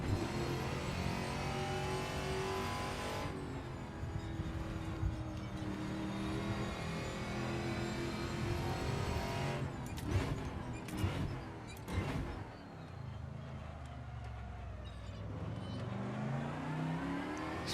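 An American V8 TA2 race car in Assetto Corsa roars steadily throughout, its engine rising and falling as the car accelerates, shifts and brakes through corners, loud and close with no talk.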